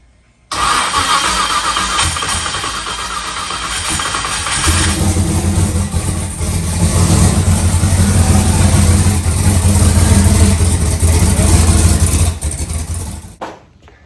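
A rebuilt turbocharged car engine fires up for the first time, catching abruptly after a brief quiet and then running and revving with a loud, rising rumble before cutting off sharply at the end.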